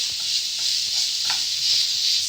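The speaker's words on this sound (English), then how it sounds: "You want to fry your mince in the onion for 10 minutes" Steady bright hiss of beef mince frying with onion in a pan on low heat, continuous and close, with a few soft scrapes and taps from stirring.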